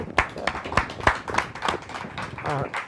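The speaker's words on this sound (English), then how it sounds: "I mean, clap it up for that." Several sharp, evenly spaced hand claps ring out close by in a steady rhythm, with a voice speaking briefly toward the end.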